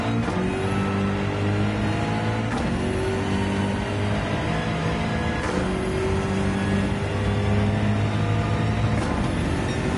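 A BMW GR.3 race car engine in Gran Turismo 7, a loud, continuous, high-revving drone that climbs through the gears, with sharp shift breaks every few seconds and no voice over it.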